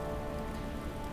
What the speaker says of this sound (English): dark clouds appeared, and rain had suddenly poured, and the noise of the forest had stopped.